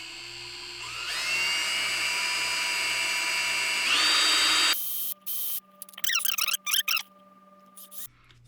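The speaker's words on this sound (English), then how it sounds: "be sure you're drilling in the same exact spot for all of these" Power drill boring holes into a kayak for a rudder mount, a close whining motor that rises in pitch under load, then stops, followed by scattered squeaks and short clicks.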